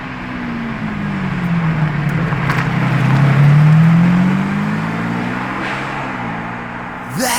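Lamborghini Revuelto engine droning nearby, a steady low tone that swells in pitch toward the middle and then eases back down, with no talk over it.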